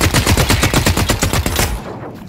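Rapid SMG fire in the video game The Cycle, a loud, close burst of evenly spaced shots lasting about a second and a half before cutting off abruptly.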